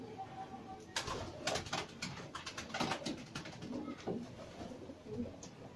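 A racing pigeon arrives, cooing softly nearby with a few brief flutters and rustles, faint against a quiet outdoor background.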